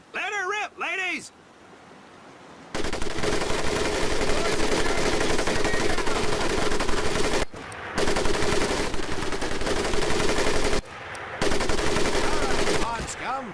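An M1919A4 .30 caliber machine gun fires in the Medal of Honor: Pacific Assault Pearl Harbor game, loud sustained bursts broken by short pauses, after a brief voice at the start.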